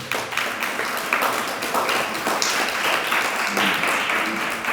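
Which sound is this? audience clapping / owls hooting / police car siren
audience clapping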